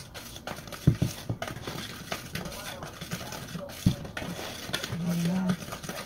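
Dry ingredients for carrot cake are being mixed by hand in a bowl: soft scraping and stirring with a couple of sharp utensil knocks against the bowl, moderately close, with a person talking over it.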